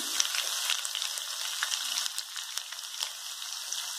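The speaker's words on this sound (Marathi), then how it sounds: "कांदा सोनेरी भोकरी भाजून घेऊया" Onion frying in two tablespoons of oil with peanuts, sesame seeds, curry leaves and garlic, for an onion-okra dish: a steady, close, crackling sizzle that holds evenly throughout, with small pops and no talking.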